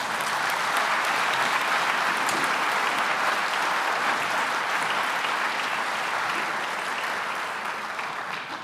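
Dense, steady audience applause at a university celebration, continuous clapping from a large crowd in a hall, evenly loud for several seconds before tapering slightly at the end.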